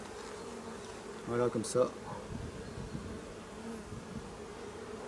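A honeybee colony hums and buzzes steadily through an open-hive inspection, with a few louder close passes near the start and a person speaking briefly over it.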